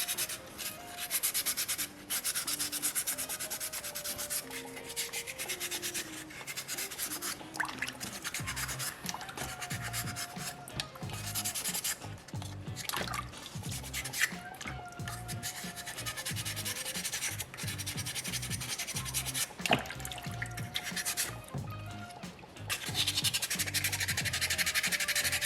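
Sandpaper rubbing over a small soapstone polar bear carving with No. 2 grit, a close, scratchy back-and-forth rasp in uneven strokes, pausing briefly now and then, with no talking.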